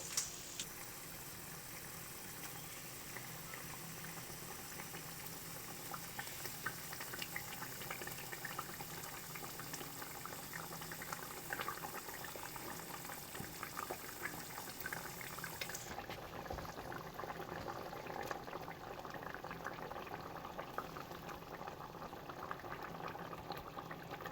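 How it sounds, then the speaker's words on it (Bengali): Banana flower kofta curry gravy bubbles in a pan, a soft continuous simmering burble with small pops, quiet and close throughout, with no voices. "এটা কিন্তু সুন্দর করে ফুটছে গ্রেভিটা"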